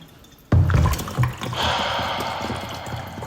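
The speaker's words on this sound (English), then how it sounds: "overfilled this damn water." Water from an overfilled container suddenly spills and trickles, starting with an abrupt splash and settling into a steady close running dribble that continues to the end.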